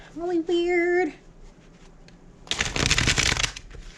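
A deck of tarot cards is shuffled in one loud, dense riffling burst lasting about a second, following a short stretch of voice and a quiet pause.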